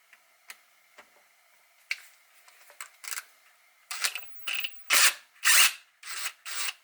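A 3/16 Allen wrench turns the screws out of a cheap ring stretcher-reducer. It gives a series of small, sharp metallic clicks and ticks, sparse at first, then louder and more frequent, heard close up.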